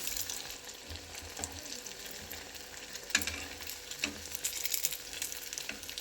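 Food frying in oil in a pan in a home kitchen, a steady soft sizzle with occasional stirring clatters, heard up close and alone.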